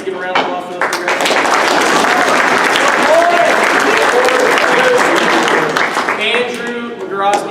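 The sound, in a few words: round of applause at wrestling banquet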